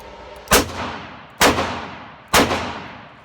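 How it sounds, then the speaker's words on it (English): A Ruger LCR revolver fires hand-loaded .38 Special rounds: three loud, sharp reports spaced about a second apart, each followed by a short echoing decay, with no talking. "So here we go, Ruger LCR."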